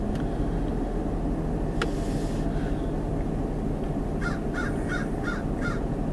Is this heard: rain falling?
no